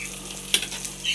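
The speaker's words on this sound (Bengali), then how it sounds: "তিত করলা ভাজা হইতেছে" Bitter gourd frying in oil in a home kitchen, a steady close sizzle with a brief sharp clink or stir midway.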